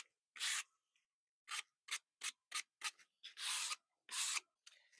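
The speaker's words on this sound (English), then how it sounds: "And then I'm just going to sand the corners a little bit." Hand sanding of the corners on a teak wood top layer for a boat instrument mount, heard as about eight short, close rubbing strokes with a few longer sweeps between brief pauses, with no talking.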